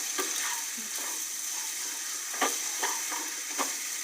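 Pasta is stirred in a pan with soya sauce, sizzling steadily under irregular scraping and clanking strokes of the spoon.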